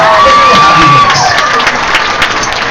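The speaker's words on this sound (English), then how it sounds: "Let's give Bhutan a big round of applause." A tiger show audience bursts into loud, sustained applause and cheering that fills the whole stretch at close range.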